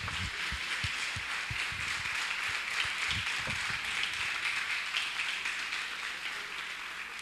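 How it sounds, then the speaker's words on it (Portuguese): A church congregation applauds in a steady, sustained wash of clapping with a few low thumps underneath, fairly even in loudness throughout. "Você pode aplaudir o Senhor?"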